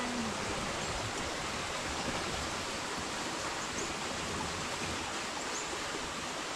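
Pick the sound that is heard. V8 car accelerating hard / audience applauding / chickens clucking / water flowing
water flowing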